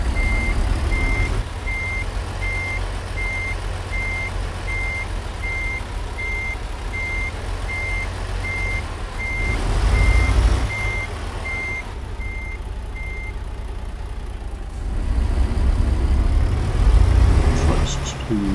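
Truck reversing beeps in American Truck Simulator, a steady evenly spaced electronic beep over a loud low engine rumble that swells at times, with the beeping stopping near the end.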